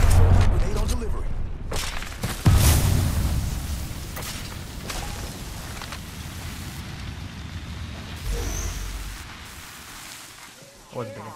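A grenade blows up in the Apex Legends video game, Season 13, on the Newcastle map. A heavy boom rolls out near the start, followed by a long, rumbling, noisy wash of game sound that slowly fades under steady background action.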